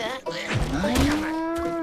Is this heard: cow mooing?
yes